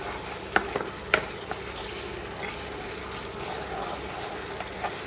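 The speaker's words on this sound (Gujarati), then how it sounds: "હલાવી નાખી દઈએ" Pav bhaji gravy sizzles steadily in a pan while a spoon stirs it, with a few sharp scrapes and clinks near the start over the constant frying hiss, close and fairly loud with no talking.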